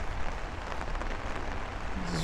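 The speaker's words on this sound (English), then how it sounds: "light to moderate rainfall" Light to moderate rain falling on a thunderstorm night in Bay Ridge, Brooklyn, a steady soft hiss of drops on pavement and surfaces throughout the short stretch.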